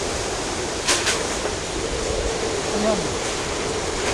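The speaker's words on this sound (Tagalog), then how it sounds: "Malalim talaga, ay mahangin talaga. Kung narinig niyo po yan, yun ang lakas." Strong typhoon wind roaring steadily as a broad, continuous rush during Typhoon Kristine, with a brief spoken word near the start over the constant windy noise.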